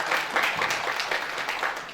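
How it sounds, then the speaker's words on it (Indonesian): Guests at a family gathering for a Grand Petropolis property event clap together again, a steady dense patter of hands at moderate volume with no talking over it. "Tepuk tangan sekali lagi."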